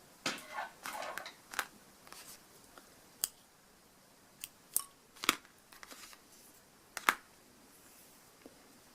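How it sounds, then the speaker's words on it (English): Scissors snip crochet thread with a handful of sharp, faint clicks scattered across a quiet room, a couple of closely spaced cuts near the start and single snips later, no talking. "cut the thread"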